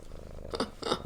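A cat purrs right against the microphone indoors, a loud, close, low rumbling with two breathy pulses in quick succession.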